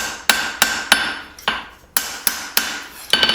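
Hammer blows on a hot knife blade being forged, about ten sharp metallic strikes at an uneven pace with ringing decay, close and loud, ending in a quick cluster of lighter taps.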